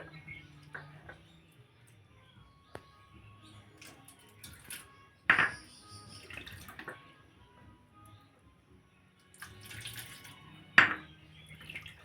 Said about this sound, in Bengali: প্রথমে ডালটা আমি ধুয়ে নেব ভালো করে জল পাল্টে পাল্টে।